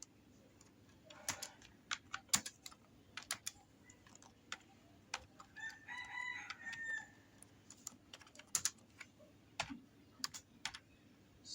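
C++ code being typed on a computer keyboard, with scattered close key taps and short clicky bursts over a faint steady hum, and a rooster crowing somewhere in the background.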